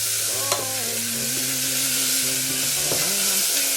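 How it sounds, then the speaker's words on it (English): Blended chili, coriander, garlic and ginger fry in a pan, giving a steady, close sizzle with occasional scrapes as the mixture is stirred around. "the chili, the coriander, the garlic and the ginger is now in the pan. Get all that out there. And give that a good stir around"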